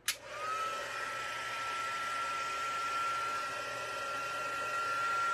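An embossing heat tool heat-sets powder on a stamped craft card, switching on with a click and then blowing a steady, close, whining hum with a high tonal whistle, uninterrupted and alone.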